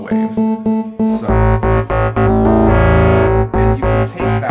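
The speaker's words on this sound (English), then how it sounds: "it gets a lot gnarlier, as you can hear, because we're not doing it sine wave to sine wave, we're doing it sine wave to a Buchla wave" A Groove Synthesis 3rd Wave synthesizer plays FM patches with a sine wave modulating a Buchla wave, giving loud, gnarly, harmonically rich notes in a rhythmic sequence, with one sustained tone that wobbles.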